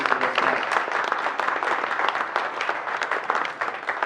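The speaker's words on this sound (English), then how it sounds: "please give them another round of applause for coming out" An audience at a community meeting applauds, producing a thick continuous patter of many hands at moderate loudness, steady through most of the stretch and easing slightly near the end, with no voices.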